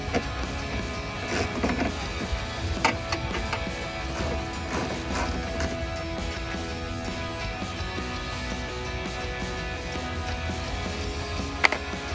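A ratchet with a 7mm socket backing out grille bolts on a 2018-2020 Ford F-150, with steady mechanical clicking and occasional metallic knocks at close range.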